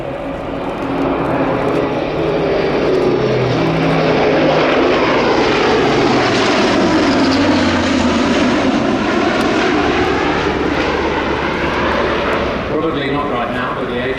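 An Airbus A400M military transport aircraft makes a flypast at an air show, its propeller engine roar loud and sustained throughout, rising and sweeping as it passes close overhead, with a commentator talking over it.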